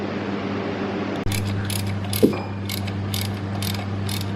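A socket wrench fitted with a 1/2-inch extension is pressed into the back of a 1JZ crankshaft. One sharp metallic clack is followed by a run of crisp, close ratchet-pawl clicks in an uneven rhythm.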